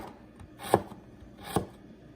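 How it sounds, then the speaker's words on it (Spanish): Two crisp knife strokes cut food on a cutting board for chicken pozole verde, each a sharp close chop spaced about a second apart in a quiet room. "lo corto por la mitad y después así y después así y luego ya"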